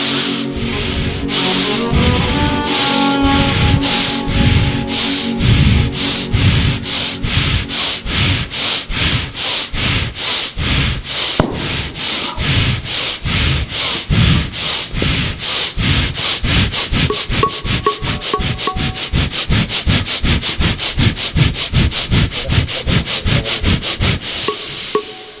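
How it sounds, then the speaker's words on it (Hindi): Rapid pranayama breathing fills the space with steady, forceful puffs of breath, close and loud, repeating dozens of times and quickening toward the end without any talk. "फिर इस प्राणायाम को थोड़ा तीव्र गति से भी कर सकते हैं"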